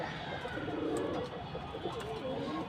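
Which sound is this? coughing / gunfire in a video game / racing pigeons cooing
racing pigeons cooing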